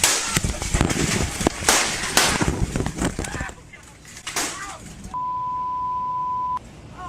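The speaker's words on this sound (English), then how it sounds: "The gunfire captured on a live stream." Gunfire from a shooting, captured on a live stream, rings out as a rapid burst of loud sharp cracks, then thins out; a steady censor beep follows.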